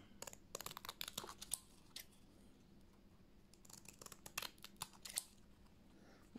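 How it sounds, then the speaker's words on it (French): Scissors snip repeatedly at the edges of a crocheted baby moccasin, crisp close cuts in two short bursts with a soft crinkle between them, quiet and free of speech. "On va couper les bords."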